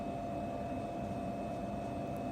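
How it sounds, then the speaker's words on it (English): A steady, low electrical hum from a vending machine drones on unchanged with a faint high whine above it, quiet and continuous with no other sounds. "noise going on in the background by a vending machine or whatever."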